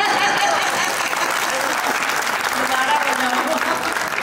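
An audience at a Hindi poetry gathering in Paota claps steadily, a dense, even patter of applause that continues through the whole stretch with no break.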